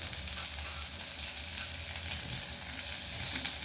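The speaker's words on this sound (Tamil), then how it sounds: "வாசத்துக்கு மிளகாய் தூள் சேர்த்து இந்த வெங்காயத்தையும் இந்த முருங்கைக்கீரையும் நல்லா வதக்கணும்" Onion and moringa leaves sautéing in a pan with chilli powder, a steady close sizzle of frying running through without pause and no voices.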